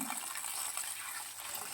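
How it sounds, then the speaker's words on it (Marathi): Vegetables are rinsed in water, giving a soft, continuous swishing and splashing that stays fairly faint and close, with no talking. "भाजी धुवून घ्यायची चांगली स्वच्छ दोन वेळा दोन तीन वेळा पाण्याने"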